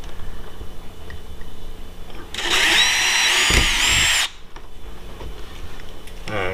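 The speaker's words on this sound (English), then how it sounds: "I'm gonna go ahead and pop me a couple of my holes center. Like I said, I'm using an 1/8 of an inch bit." A power drill fitted with a 1/8 inch bit bores holes in the plastic hull of a Perception Outlaw 11.5 kayak, giving one loud, steady, high whine that lasts about two seconds against a quiet background.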